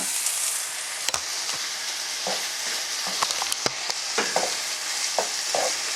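Sautéed aubergine with chopped herbs and garlic stirred in a pan, soft scraping strokes and light clicks of the utensil over a gentle steady sizzle, close and quiet.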